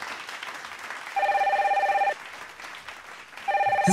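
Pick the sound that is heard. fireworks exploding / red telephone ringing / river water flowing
red telephone ringing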